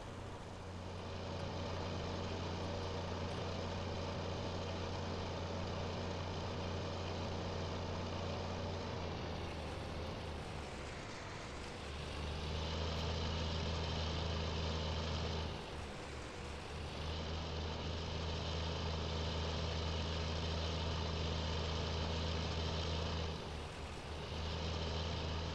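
A tractor engine labours under a heavy load in Farming Simulator 19, a steady loud drone that dips and swells a few times as the revs shift, with no talking.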